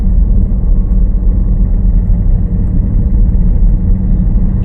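Car engine during a driving lesson, a steady low rumble that stays loud and close as the car creeps forward, with no talk over it.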